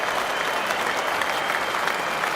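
A cricket crowd at Lord's claps loudly and steadily as a batsman brings up a century in an MCC versus Rest of the World match, a dense, sustained roar of applause throughout.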